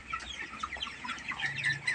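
Three-day-old DOC broiler chicks peep and chirp in a dense, busy chorus, many small birds calling at once at close range.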